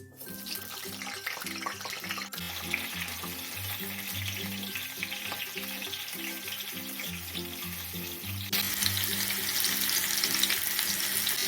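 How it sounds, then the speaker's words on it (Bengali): Small boiled potatoes fry in oil with a dense, steady sizzle close by, growing louder near the end, with no voices. "আলুগুলো আমি ভেজে নেব"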